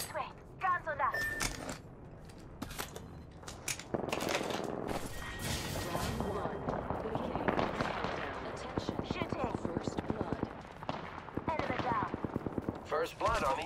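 Gunfire in the video game Apex Legends, with rapid bursts and single shots crackling throughout a busy firefight, growing into dense automatic fire toward the end, with voices talking over the action.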